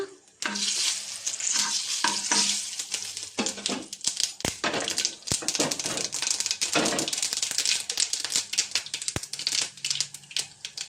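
Onion tipped into hot oil after mustard seeds have crackled, while cooking a mushroom stir fry, gives a loud, close sizzle. Sharp pops and crackles scatter through it from the start.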